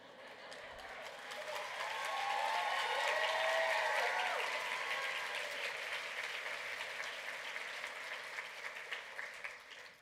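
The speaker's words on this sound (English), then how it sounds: "She says you're clapping." A conference audience at an awards event claps steadily in a broad wash of applause that swells, peaks midway and slowly tapers, with faint voices mixed in.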